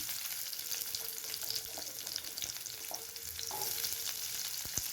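Small onions frying in oil with fennel seeds for a crab masala gravy make a continuous close sizzle, with occasional stirring scrapes and spits throughout and no speech.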